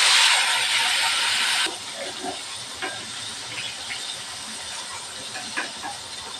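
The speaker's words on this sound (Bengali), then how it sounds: "তেল গরম হয়ে গেছে দিয়ে দেব বেগুন" Eggplant lands in hot oil with a loud hissing burst lasting under two seconds, then settles into quieter crackling and popping as it fries close by, with no voices.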